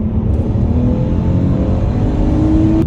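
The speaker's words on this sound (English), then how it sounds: "The car sounds great." A project car's engine runs loud and close, a steady throaty rumble with a rising note near the end as it revs, heard alone.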